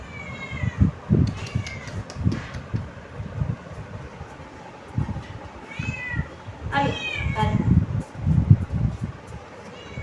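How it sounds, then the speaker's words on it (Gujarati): A cat meows repeatedly at a roadside stop during a journey, several rising mewing calls, some close and clear, mixed with background chatter, rustling and low rumbling noise. "આવી મીંદડી છે જો"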